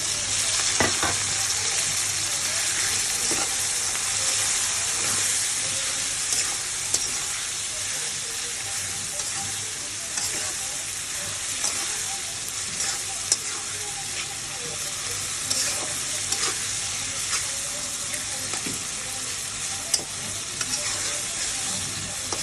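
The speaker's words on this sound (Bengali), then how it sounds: "মশলাটা যাতে কাঁচা গন্ধ না বলে এই জন্য একটু মশলাটা ভাজা করতে হবে" Spices and onions fry in a pan with a loud, continuous sizzle, broken by occasional clicks and scrapes of stirring.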